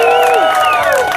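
A stage show audience cheers and whoops loudly in one brief burst, with shouting voices rising above a dense crowd roar at a pain-proof stunt performance.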